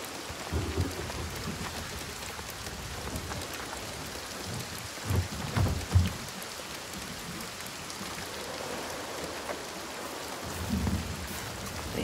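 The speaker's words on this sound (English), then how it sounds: "The constant storm." A constant storm in the video game Senua's Saga: Hellblade II: steady rain hisses throughout, broken by several low, rolling thunder rumbles, with no voices.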